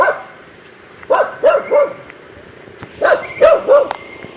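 Dogs bark in two short bursts of several barks each, a few seconds apart, moderately close over quiet background hiss.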